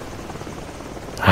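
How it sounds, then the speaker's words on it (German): A helicopter in the video game Call of Duty: Modern Warfare gives a faint, steady drone that suddenly swells into a loud, close roar in the final moments. "Ah, scheiß Helikopter, ey."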